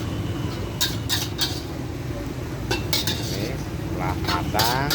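A metal utensil stirring Javanese fried noodles (mie goreng Jawa) in a pan over a wood charcoal fire, with repeated scraping clinks over a low, steady sizzle.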